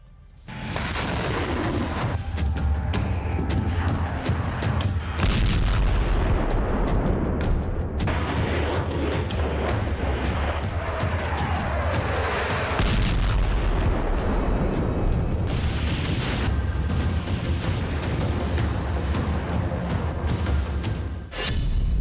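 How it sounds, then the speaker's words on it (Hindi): Heavy booming blasts and rumbling detonations of a large explosion at a TV centre in wartime Ukraine roll on continuously, loud and dense, with sharp cracks like gunfire scattered through. "यहाँ के टीवी केंद्र पर बहुत बड़ा धमाका हुआ है"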